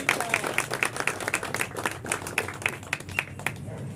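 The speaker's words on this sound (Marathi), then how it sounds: "आपण टाळ्या वाजवतो" An audience applauds a birthday greeting at a Ganesh festival gathering, with a steady run of many hands clapping close by for about four seconds, punctuated by sharper individual claps and a faint crowd murmur.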